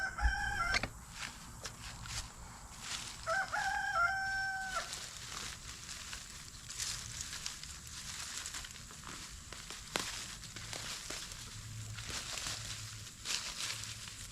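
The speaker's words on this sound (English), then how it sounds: "the roosters are they're always being roosters. They're roostering all the time." A rooster crows loudly early on, then another crow follows, with scattered clucks and farmyard clatter afterward.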